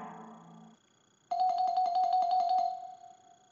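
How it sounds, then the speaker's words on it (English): An Avaya IP Office 9641G desk phone plays a personalized ringtone, a bright pulsing electronic chime repeating quickly for over a second before fading, following a short muffled sound and a brief pause. "go to personalized ringing, this is what we're hearing now."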